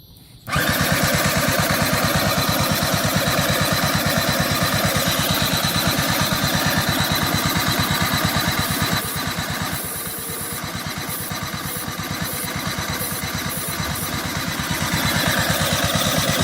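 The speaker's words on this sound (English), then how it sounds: "let's hit the starter real quick" Electric starter cranking the engine of a Shug Bear 50cc ATV quad, a loud, rapid, steady chugging whir that runs for about fifteen seconds without the engine catching.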